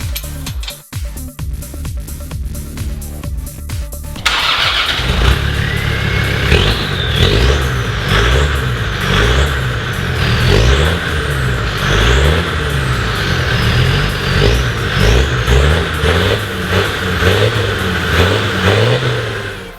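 A Land Rover Defender Td5 diesel engine with a straight-through exhaust rumbles with a harsh, open note, rising and falling through repeated revs after a short quieter idle at the start.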